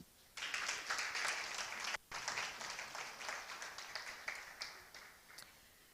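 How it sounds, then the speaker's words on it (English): An audience at a Ugandan national journalism awards ceremony breaks into loud applause for an award winner, a dense burst of clapping that drops out briefly, then resumes and slowly thins out. "Felix deserves another hand clap."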